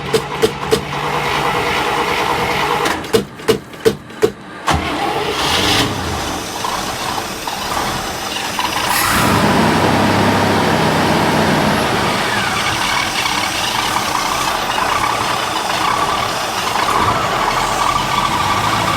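An International Scout engine cranks with a rapid series of clicking turnover bursts, then catches and settles into a steady, loud, rumbling idle that continues to the end.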